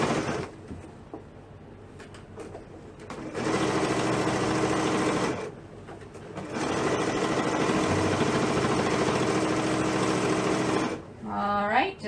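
Sewing machine stitching layers of rag quilt fabric on a small work table, running in two long steady bursts separated by a brief pause, then stopping as a short voice sound comes in at the end.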